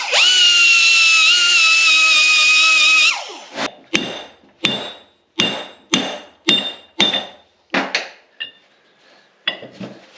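A power tool whines loudly and steadily for about three seconds while buffing and honing a damaged spot on a Letourneau Tournapull D gearcase part. It then stops, followed by a series of sharp metallic taps and clanks.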